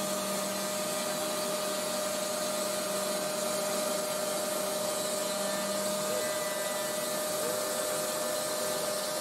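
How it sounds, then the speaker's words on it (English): A vacuum cleaner runs right next to the cutting head of a DIY CNC router, producing a loud, constant whooshing drone with steady tonal hum that holds unchanged throughout, with no voices. "I had that vacuum cleaner going the whole time, mostly right next to the cutting head, making a hell of a noise"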